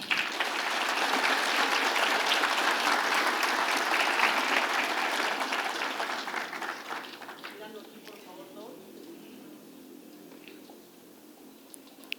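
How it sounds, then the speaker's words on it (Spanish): Hearty audience applause after a lecture on the Peruvian economy, loud and continuous clapping for about seven seconds that then fades away into quieter room sound and brief speech. "Fuertes aplausos"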